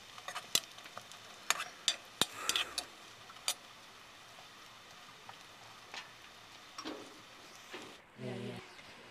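Onions fry in a pan until reddish-brown under a faint steady sizzle, with sharp spatula clicks and scrapes against the pan scattered throughout and a brief stir near the end.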